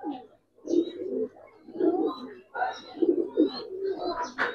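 Old-breed Giribaz silver lalpatti pigeons cooing close by in repeated soft, throaty rolling bursts, with short pauses between calls.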